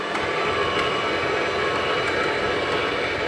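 A juice extractor motor runs at a steady pace, a continuous even whirring hum that holds at the same level throughout with no talking.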